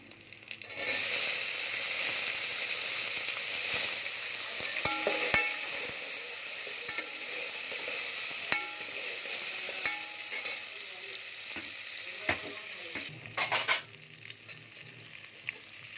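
Onions sauté in a pan for fish kulambu, a constant close sizzle with occasional clicks and scrapes of stirring and a louder rustling burst near the end, with no voices.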